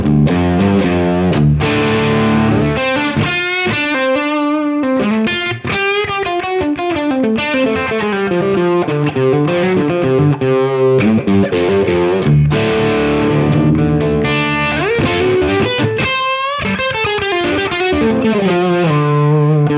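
Distorted electric guitar through a Line 6 Helix Pillars Overdrive set to moderate gain and tone, playing sustained chords and melodic lines, loud and close with no talking.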